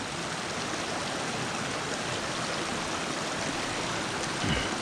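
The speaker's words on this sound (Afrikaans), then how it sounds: "Nog wel baie water wat hier loop." A stream flows along a hiking route to the Old George Dam, producing a steady, full rushing and gurgling wash of water close by, unbroken and without voices.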